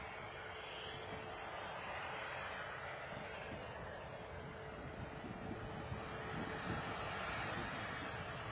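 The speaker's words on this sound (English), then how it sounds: "So the military plane is on the move." A military plane moving at London Stansted airport gives off a steady, broad jet engine roar at moderate distance, mixed with wind rumble, sustained without a break and with no voices.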